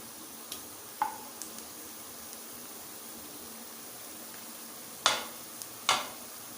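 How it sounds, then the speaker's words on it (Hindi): Ginger garlic paste and onions fry in a pan for a white lobiya recipe, making a faint, steady sizzle broken by a few sharp clinks of a utensil against the pan. "इसको भी फ्राई कर लेते हैं।"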